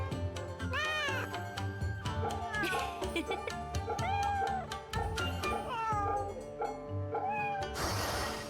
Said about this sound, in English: Petting kitties is very important.